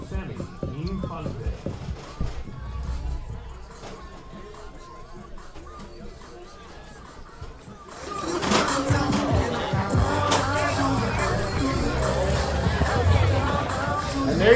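A large crowd at a high school baseball district regional playoff final between Cardinal Gibbons and Monsignor Pace murmurs at first, then swells into a loud, sustained roar of cheering and chatter.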